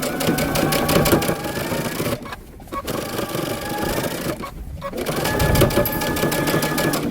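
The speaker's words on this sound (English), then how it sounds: "we're going to back stitch, and we're going to be sewing 5/8 of an inch seam allowance" A sewing machine runs side seams on a long coat or vest at a 5/8 inch seam allowance, with a near, rapid needle chatter in three runs separated by two short pauses.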